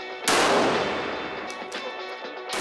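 Sniper rifle shot fired during military marksmanship training, a single loud close report with a long rolling decay, followed by faint metallic clicks.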